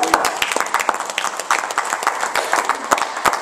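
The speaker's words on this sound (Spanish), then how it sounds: "Alguien puede dar un fuerte aplauso al Señor." A church congregation claps loudly, with sharp individual hand claps standing out over a busy, uneven patter of many hands. The applause is close and lively, with a little voice in the background.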